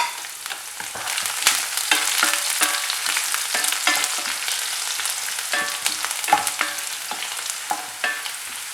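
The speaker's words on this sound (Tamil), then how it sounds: "அப்புறம் பூண்டும் காஞ்ச மிளகாவும் சேர்த்துக்கிறேன்" Garlic and dried red chillies sauté in a hot pan: continuous crackling sizzle with frequent sharp spatula scrapes and taps, close and fairly loud, no talking.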